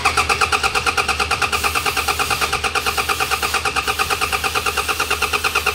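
A Toyota Fortuner's engine starts and settles into a steady, rapidly pulsing idle, loud and close, with a regular throbbing rhythm and no talking.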